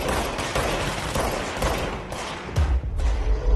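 Dense, continuous gunfire in a video game, with a steady crackle of many shots and a few heavier booming thuds toward the end.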